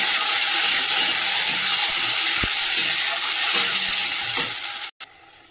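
Browned onions with a ground paste of ginger, garlic, tomato and green chilli hiss and sizzle loudly in a hot pan, a dense continuous fry that cuts off abruptly near the end.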